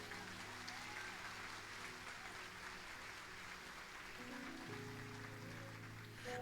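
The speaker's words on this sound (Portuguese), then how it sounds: "Se for para o Senhor, pode aplaudir mais forte" A church congregation claps loudly and steadily, a dense continuous wash of applause filling the room with a faint musical hum beneath it and no break from start to finish.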